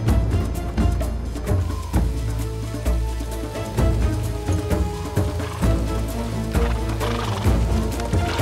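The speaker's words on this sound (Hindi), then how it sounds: "घोड़े लेकर आओ।" Horses neigh and whinny over steady hoof clip-clops in a historical drama scene, with music and busy background layered throughout, no clear speech.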